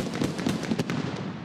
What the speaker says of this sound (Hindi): लक्ष्मी बॉम्ब का धमाका।